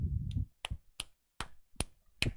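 A few sharp, separate claps, about six, spaced unevenly and heard close and fairly quiet, with a brief low murmur at the start.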